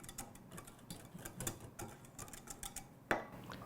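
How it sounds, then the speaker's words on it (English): A whisk ticking quickly and lightly against a bowl, mixing dry cinnamon, ginger, cloves, nutmeg and salt, with soft rapid clicks running throughout and one sharper knock near the end. "Whisk that together."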